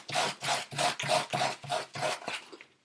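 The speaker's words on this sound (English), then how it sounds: "if we sand, and I would sand against the grain of the fabric" Sandpaper scrubbing the knee of denim jeans against the grain of the fabric, about nine rough, rasping strokes in a steady back-and-forth rhythm, close and fairly loud, with no talking.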